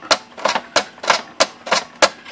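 A repaired Brother electronic typewriter prints on its own, sounding about seven sharp, evenly spaced strikes in a steady rhythm, close and clear.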